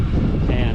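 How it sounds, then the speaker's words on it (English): Steady wind gusting across an open outdoor microphone near an Oklahoma barn on a cool day, a constant low rumble and buffeting that fills the short moment without a break. "It's a little windy today"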